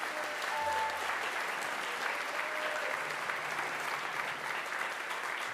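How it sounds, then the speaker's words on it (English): A concert audience breaks into sustained, dense applause, an even wash of many hands clapping at once that holds steady throughout. "Let's give her a round of applause."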